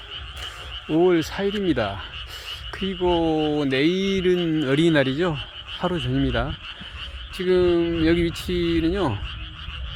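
A dense chorus of frogs croaks in a field at night in Wonbong-ri, Boseong, South Jalla Province, with rhythmic, rasping calls that go on steadily under someone talking close by.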